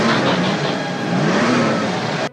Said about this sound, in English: Autobots, start your engines!